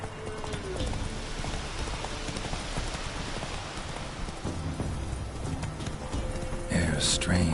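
Roach, the horse in The Witcher 3, clip-clops steadily at close range through a rainy game soundscape, hoofbeats running continuously with patter around them and a short louder burst near the end.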